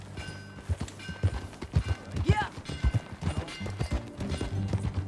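Horse hooves clip-clop at a steady riding gait in the video game Red Dead Redemption 2, with a rhythmic, moderately close beat, while a voice speaks briefly over it.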